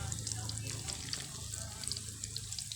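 A batter of egg, butter and milk for a Thai egg snack fries in a pan with a faint, steady crackling sizzle throughout.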